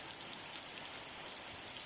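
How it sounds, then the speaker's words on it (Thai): Heavy rain pours steadily in Xiangkhouang, Laos, a dense, even hiss of falling water with no breaks, fairly close and continuous throughout. "ถือว่าแหงสมควรได้ฝนตกมื้อนี้"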